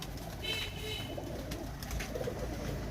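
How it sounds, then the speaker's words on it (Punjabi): Soft pigeon cooing from breeder birds in a Faisalabad loft, low and murmuring against a steady background hum, with no one talking. "ਇਹ ਕਬੂਤਰ ਹੈ ਜੀ ਸਲੇਟੀ ਚੂਹਾ ਕਬੂਤਰ ਜਨਾਬ"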